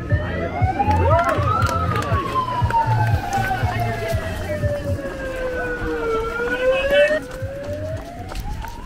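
A wailing siren at an ultra running race slowly sweeps up and down in pitch, loud and fairly close, over rumbling background noise and muffled voices.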